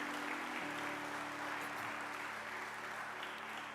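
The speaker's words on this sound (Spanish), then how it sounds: "Démosle un aplauso a Jesús." Church congregation applauding during a Spanish-language service, a sustained, even wash of clapping. A low steady hum sits beneath it and there is no talk.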